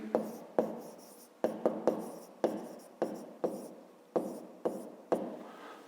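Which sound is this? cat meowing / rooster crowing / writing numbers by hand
writing numbers by hand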